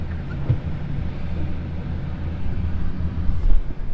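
A small Mini-Mater vehicle's engine rumbles steadily at low pitch in first gear as it creeps along, running continuously with slight swells in loudness, close by.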